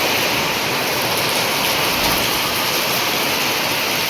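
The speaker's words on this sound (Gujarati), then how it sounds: "નદીએ ફૂલ આવી ગઈ છે આપણી, પારાય તૂટવા માંડ્યા છે" Floodwater from a swollen river rushing past during early monsoon, a steady loud broadband roar like a waterfall, continuous and close with no talk.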